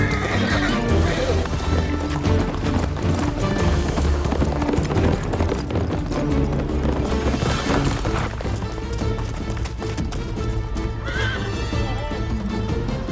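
A horse neighs loudly and hooves clatter in a fast gallop, with shouting voices over a busy, dense background.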